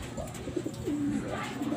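Young racing pigeons coo repeatedly during a rest between training tosses, with soft low rounded calls rising and falling close by over a steady background murmur, no speech.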